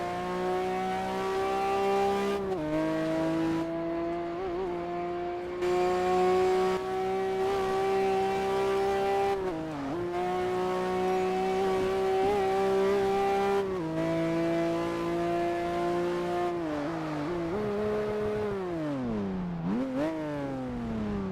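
A 1991 Mercedes 500e in the racing game Test Drive Unlimited 2, its engine droning steadily at a constant pitch with repeated rises and drops as gears shift, smooth and continuous with no voices.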